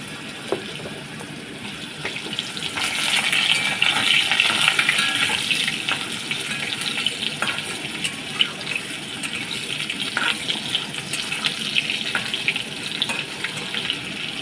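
Cut potatoes dropped into hot oil with a five-spice tempering, giving a loud, steady close sizzle that swells after a few seconds and hisses on evenly without talk.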